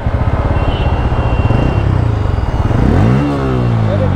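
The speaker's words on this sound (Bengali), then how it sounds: "এক্সজস্টের সাউন্ডটা একটু শোনেন, এটা আমার কাছে মজা লাগছে।" New Bajaj Pulsar N160 motorcycle idling close to the exhaust with a loud, rapid, throbbing pulse, then the engine is revved so the note climbs and briefly holds before easing off.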